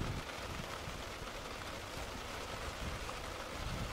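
Steady rain patters down at a riverside carp-fishing spot, a dense broadband hiss that stays even and fairly close throughout with no voices.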